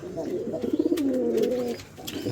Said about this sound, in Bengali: অনেক সুন্দর সুন্দর কবুতর আছে আমার এই খামারে